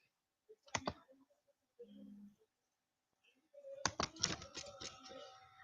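Writing on a board during an English poetry lesson, heard as sharp tapping clicks: a brief burst early on, then a quicker cluster of knocks and scratchy strokes near the end, with quiet pauses between.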